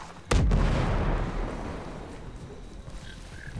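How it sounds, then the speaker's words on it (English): A mortar launch booms in Ghost Recon Breakpoint, a single heavy blast whose low rumble rolls on and slowly fades, with faint distant tones toward the end. "You can see the mortars being fired."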